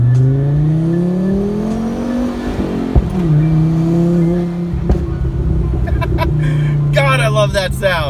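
A car engine revs up and drops back several times, loud and close, with rising and falling pitch sweeps; near the end a person starts talking over it.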